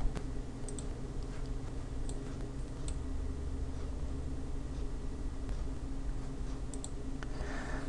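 A computer mouse clicks sporadically, with light, close clicks scattered over a faint steady background hiss in a quiet room.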